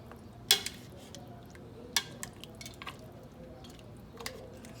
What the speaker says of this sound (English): I'm just gonna quickly mix everything in